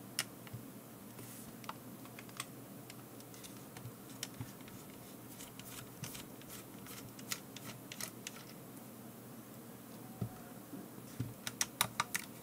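Small screws come out of a DJI Mavic 2 Pro drone during motherboard replacement, a series of faint, sharp ticks and clicks scattered irregularly over a quiet background, bunching closer together near the end.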